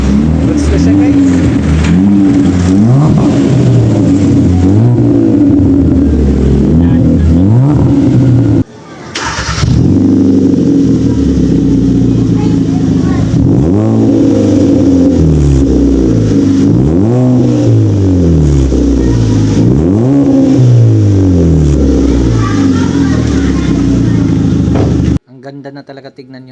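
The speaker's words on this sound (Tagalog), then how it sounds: "naka dual muffler na siya dito, naka white type na" Hyundai car with an HKS dual Y-type exhaust muffler, engine revving loudly again and again up close, rising and falling in repeated pulls with a brief pause partway through and talk mixed in.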